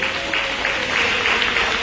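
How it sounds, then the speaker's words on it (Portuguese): A church congregation applauds with dense, steady clapping that holds throughout. "Um aplauso forte ao nosso Senhor."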